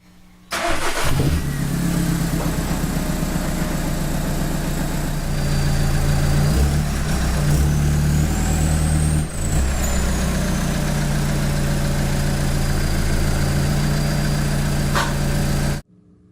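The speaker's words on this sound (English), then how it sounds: "I'm gonna drive the car up on my ramps so I can get a little more room to route the air hoses." A 2009-2014 VW Golf TDI diesel engine starts and runs steadily, close and loud, as the car drives up onto ramps, with a mid-pitched engine drone lasting about fifteen seconds before cutting off.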